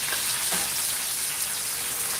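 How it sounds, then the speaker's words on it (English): Fish slow-frying in hot oil gives a steady, close sizzle with fine crackling and scattered pops that run the whole time, with no talking over it. "why are you frying it low though?"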